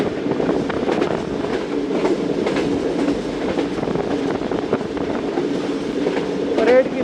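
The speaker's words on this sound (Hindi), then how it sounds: "कोल वैगन्स को इस कोल प्लांट में लेके जा रहा है" Pakistan Railways freight train hauling coal wagons to a coal plant near Karachi: a steady close rolling rumble with scattered wheel clacks and squeaks, a voice talking over it throughout.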